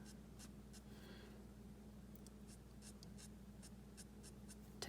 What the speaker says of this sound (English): I'm just kind of feathering in this marker